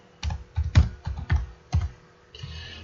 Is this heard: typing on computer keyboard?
yes